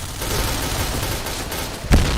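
Gunfire in a video game played during a school sports-day practice stream, a steady crackle of shots that ends in one sharp, louder blast near the close.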